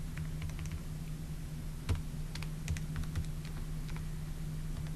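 Scattered keypresses tapped on a calculator keypad, a few light clicks spread irregularly over a steady low hum, fairly faint and with no talking.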